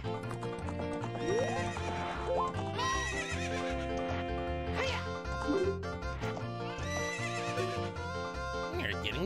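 A horse neighing and clip-clopping in the video game Zelda: Ocarina of Time, with repeated whinnies rising over steady hoof beats and game music, loud and close throughout.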